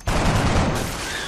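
Gunfire in the XCOM: Enemy Unknown video game: a loud, dense burst of shots that starts abruptly and carries through the whole short stretch with no talk.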